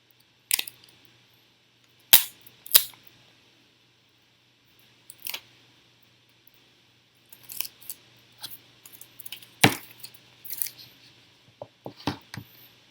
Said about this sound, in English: So let's peel the wrap off.